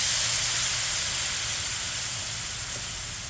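Steak marinade poured onto cooking peppers and onions sets off a loud, close, continuous hiss that fades slightly over a few seconds.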